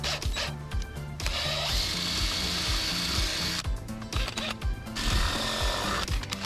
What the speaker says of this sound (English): this is the last size drill bit to finish the hole.